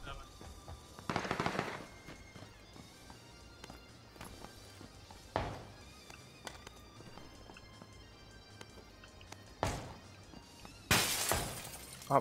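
Loud gunshot bursts from an auto shotgun in the battle royale game PUBG, a few sharp broadband blasts spaced several seconds apart over quieter game ambience and footsteps.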